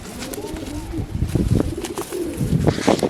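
Several pigeons coo close together in a loft, their warbling calls rising and overlapping. Rustling and a few brief flutters sit in the background.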